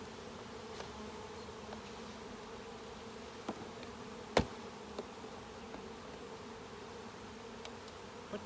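Honey bees scooped from an open hive during an inspection buzz in a steady, dense drone, with a few faint clicks and knocks over it.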